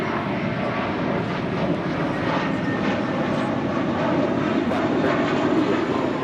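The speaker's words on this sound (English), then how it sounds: "departing to JFK with JetBlue Airways, flight 1524. It's a 6-year-old A321." A six-year-old JetBlue Airways Airbus A321 departs Los Angeles International Airport for JFK. It gives a steady, loud, close engine roar that fills the whole moment, with no talking over it.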